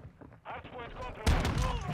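A 12-gauge shotgun fired in Modern Warfare II third-person mode, one heavy, loud blast that cuts in sharply and rings out over game background noise.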